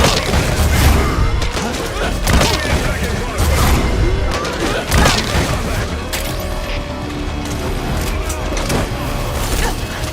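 A video game firefight rages with dense, rapid gunfire and heavy booms, loud and close throughout, with voices shouting in the mix.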